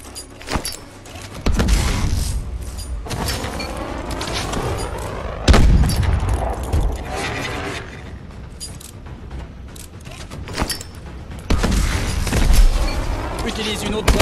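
Grenade explosions during grenade training in the video game Advanced Warfare: several heavy booming blasts spaced a few seconds apart, each followed by rumbling debris, with game sound effects between them.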